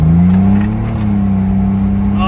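A 1991 GMC Syclone truck accelerates hard, its engine note climbing in a steady loud drone from inside the cab while people talk over it.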